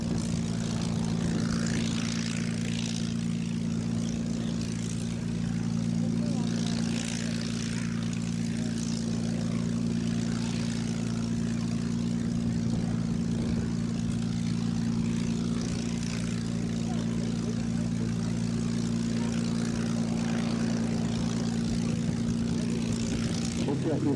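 Twin propeller engines of a Bristol Blenheim bomber drone steadily through a long takeoff at an airshow in Falaise, a continuous loud hum with a strong low tone, and a commentator speaks in French over it.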